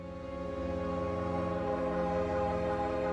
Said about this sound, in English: Sirens went off a full 2 minutes before the first tremors reached the city.